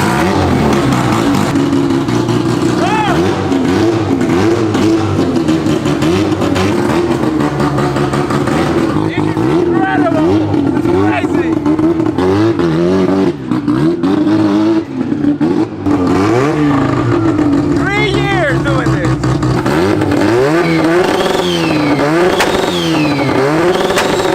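A rotary-swapped Mazda Miata fires up and drives for the first time, its engine revving and clattering loudly throughout while people talk over it.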